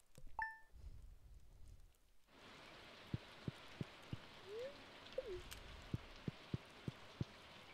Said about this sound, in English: Of course it had to be raining today.